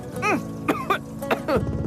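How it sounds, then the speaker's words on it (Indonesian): A few short, rough coughs or throat-clearing bursts in quick succession, close and fairly quiet. "pagi-pagi udah batuk aja"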